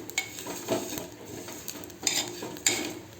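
Metal spoon scraping and clinking against a pan as semiya vermicelli is stirred and roasted, with a few sharp clinks over a faint background sizzle.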